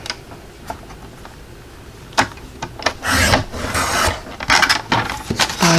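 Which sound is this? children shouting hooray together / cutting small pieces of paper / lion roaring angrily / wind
cutting small pieces of paper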